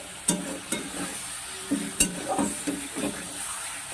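Spinach and green pea paste cooked down in a wok is stirred in short scraping strokes over a quiet sizzle, each stroke a soft clatter, close and fairly faint.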